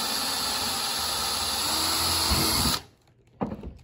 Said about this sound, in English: just to hold it in place while I drill the one on the other side